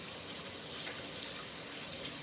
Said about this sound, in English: you're gonna wash your hands.